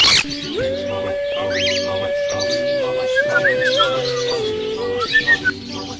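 Shrill parrot calls and whistles ring out over a steady tonal hum, with a few sharp squawks near the end, moderately close, at a parrot farm.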